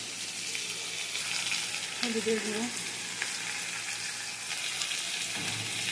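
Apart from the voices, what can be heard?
onion and potato frying in a pan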